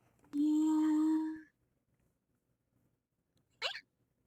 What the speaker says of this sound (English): Oh, that was a hiccup.